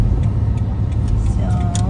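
A car driven along a street in the Green Hills area gives a steady, low road and engine rumble throughout, with a voice talking over it.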